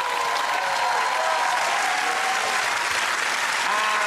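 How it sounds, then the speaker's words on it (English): Sustained studio audience applause at the end of a British TV comedy panel show, loud and steady clapping from a large crowd throughout with no break. "Give it a round of applause to Russell, Ed and Andy."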